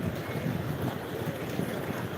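Steady light sea breeze at Akyaka beach in Muğla, Türkiye, with choppy water, heard as a constant, moderately loud broadband rush with no voices.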